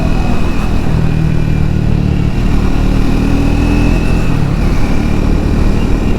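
A Triumph Speed 400 motorcycle engine drones steadily while the bike is ridden, a loud, continuous mid-pitched hum with road and wind rush blended in and no gear changes or talking.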